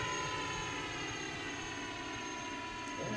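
An Airbus A320 at takeoff power on the runway in a flight simulator, a continuous loud droning engine roar with steady layered tones throughout.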